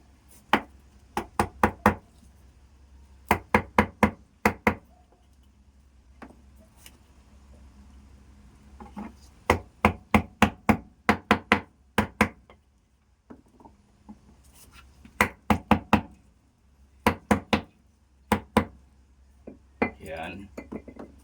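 Paper pulp is pounded and packed down to make paper charcoal. Quick clusters of sharp, close knocks come in repeated bursts, with quieter pauses between the groups.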